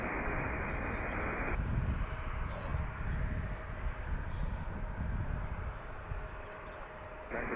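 American airliner on approach to runway 19 at Washington's Reagan National, heard from Gravelly Point: a loud, steady jet roar close overhead, with a band of hiss switching on and off at the start and end.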